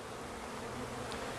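Honey bees from a package swarm around an open Langstroth hive during installation, a steady, dense buzzing hum close by with no talk.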